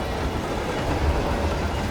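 A moving train rumbles steadily in the Hitman game, a dense, continuous low roar of wheels and carriages with no pauses and no voices over it.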